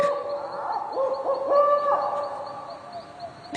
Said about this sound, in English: It was the owl that shrieked, the fatal bellman which gives the sternest good night.